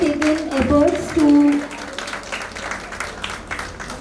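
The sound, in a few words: audience applause at dental show inauguration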